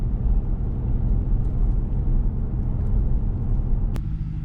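A Ram 1500 with a 5.7 Hemi V8 and Borla S-Type catback exhaust drones in 4-cylinder mode, a deep steady low rumble heard continuously from inside the cab, with a brief click near the end.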